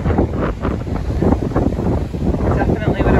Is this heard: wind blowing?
yes